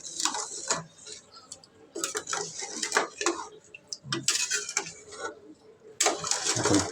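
A metal spoon scrapes and clinks irregularly against a cooking pot as beef cooked with chui jhal is stirred, close and sharp knocks spaced through the stirring.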